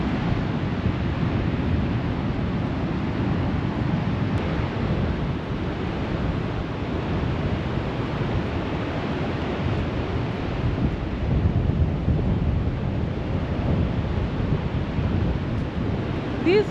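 Wind buffeting the microphone over surf along a long beach boardwalk at Gqeberha, a constant low roar and rumble, loud and close, with no clear breaks.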